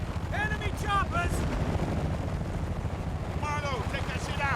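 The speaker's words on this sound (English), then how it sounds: "Enemy choppers!" Enemy helicopters in the video game Battlefield: Bad Company 2 thud with a steady low rotor rumble beneath gunfire-like clatter, while characters shout over the noise.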